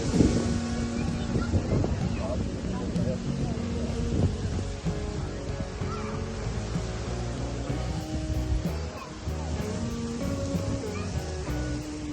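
Low rumbling wind buffeting the microphone over a droning motor and water in Valletta, steady and loud throughout.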